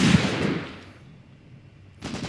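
Anti-tank rifle firing in Graviteam Tactics: Mius Front, a single loud blast that decays quickly, followed by the start of a second shot.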